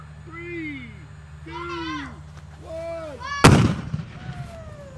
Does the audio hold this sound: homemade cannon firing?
yes